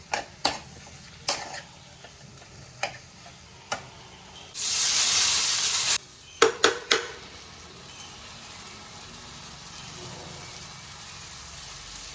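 Potatoes and onions for aloo palya being stirred in a pan: sharp scraping knocks at irregular intervals, a burst of hissing spray midway, then quieter sizzling and occasional clatters.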